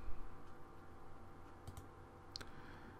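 A couple of faint mouse clicks in Optris PIX Connect software, quick and close together, over a low steady room hum with no talking.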